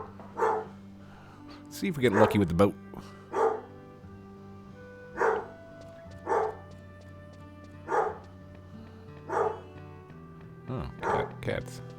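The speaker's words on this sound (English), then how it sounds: "Nope, another dog outside." A dog outside a house barks in a series of short, separate bursts spread out over time, with a person talking over the top of it in a room with game music playing.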